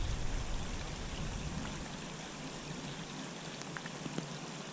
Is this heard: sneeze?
no